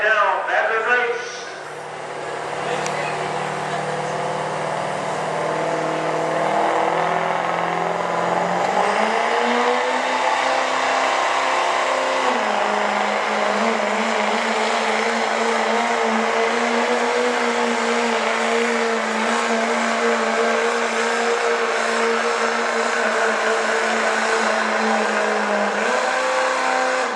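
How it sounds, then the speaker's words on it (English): A Dodge 4x4 diesel truck in an 8,500 lb truck pull class roars down the track, its engine a loud, sustained drone that holds and shifts pitch steadily throughout. "watch this Dodge come down the track right now"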